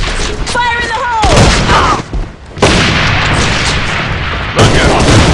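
A grenade blast and bursts of gunfire from the online shooter AVA, with loud booms and rattling shots crowding most of the clip around a short lull, and voice callouts over the combat.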